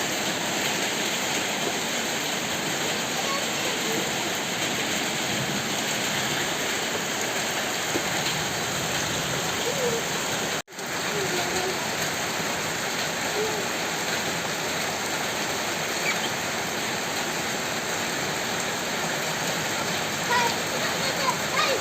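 Rain falling steadily on a new umbrella, a dense, even hiss that continues without pause except for one brief dropout partway through.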